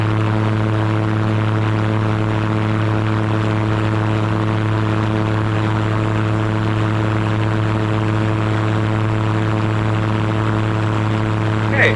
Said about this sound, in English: we're going to take off and we're going to fly to the right